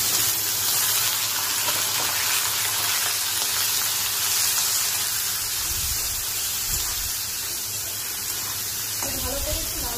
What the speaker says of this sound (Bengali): ভালো করে একটু লাল লাল করে ভেজে নেব পেঁয়াজটাকে।